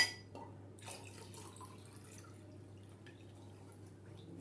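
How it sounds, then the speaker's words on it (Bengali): Milk pours steadily into a glass holding a whipped coffee and sugar mixture for an iced coffee shake. The liquid gives a soft, continuous trickle and splash at close range, with a low steady hum underneath. "পুরো দুধটা আমি ঢেলে দিলাম এর মধ্যে"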